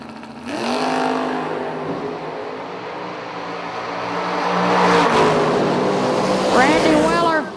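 Drag race cars at a footbrake heads-up event roar as they stage and launch, engines building to a loud, sustained rising howl with revving sweeps near the end.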